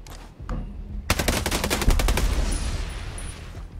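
A burst of rapid gunfire erupts after a couple of sharp shots, loud and sustained with dense repeated cracks, in a Ghost Recon Breakpoint firefight while a turret is being blown up.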